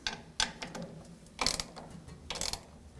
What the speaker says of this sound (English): So we're just going to tighten this up with your 9/16 socket here.